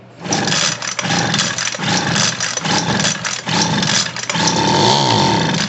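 Homelite 26B leaf blower engine firing up on a squirt of carb cleaner, a loud close two-stroke buzz that runs steadily for several seconds with uneven surges and a brief rise near the end, no talking.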